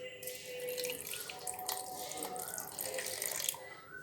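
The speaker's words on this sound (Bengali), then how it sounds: "জল দিয়ে দিচ্ছি।" Water running into a bowl of mustard powder soaked with a little salt, a steady close splashing pour that carries on without pause for about four seconds.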